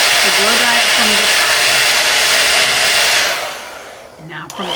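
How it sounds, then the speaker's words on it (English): A hair blow dryer roars steadily while drying wet paint on a painting, loud and continuous for about three seconds before fading, with faint voice-like tones underneath. "Now we're going to go from the top with the blow dryer."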